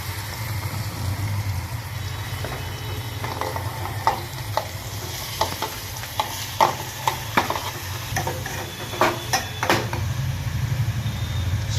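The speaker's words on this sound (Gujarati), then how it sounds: "હિંગ, તેમજ આપણે ગલકાનું જે કટિંગ કરીને રાખેલું છે તે પણ અંદર ઉમેરી દઈશું" Chopped ridge gourd tipped into hot oil with cumin and asafoetida, a steady close sizzle and frying hiss with scattered stirring clicks and taps throughout.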